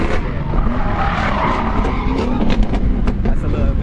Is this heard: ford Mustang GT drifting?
yes